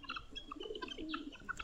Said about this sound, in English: even the pigeons there